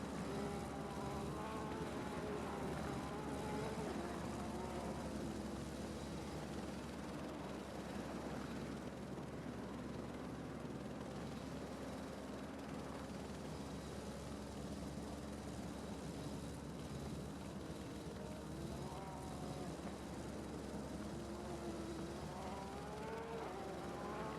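Race cars accelerating and braking in Assetto Corsa Competizione at Snetterton, a steady droning engine whine with rising and falling pitch sweeps, heard fairly faint and continuous for the whole stretch.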